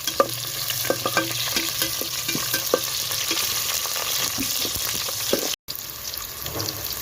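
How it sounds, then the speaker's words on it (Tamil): Garlic and onion sauté in a pan over a wood-fired stove, giving a steady close sizzle with scattered spoon scrapes and stirring clicks. A brief silent dropout comes near the end. "அடுத்த வெங்காயத்தை சேர்த்துக்கலாம் வதக்கிக்கலாம்"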